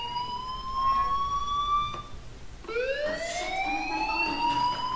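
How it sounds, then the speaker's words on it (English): Fire alarm ringing inside the video game Life Is Strange, a rising and falling electronic siren tone that sweeps upward, cuts briefly, then restarts louder and steadier, with no talk over it. "Hey, do you hear that fire alarm?"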